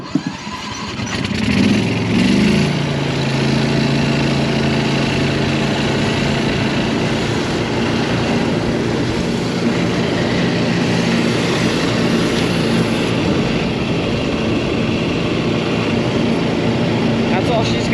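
A golf cart fitted with a Predator engine drives down a straight road on a speed run, its engine a steady loud drone throughout with a rise early on.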